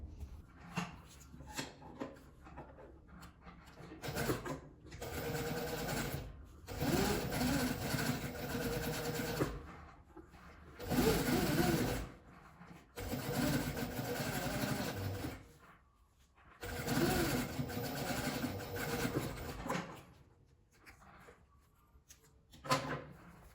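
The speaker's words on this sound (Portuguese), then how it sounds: "Vou passar um pesponto bem na beiradinha, em volta dela toda, até chegar aqui." A sewing machine topstitches close to the edge of fabric, running in several bursts of steady rapid stitching separated by short pauses, fairly faint.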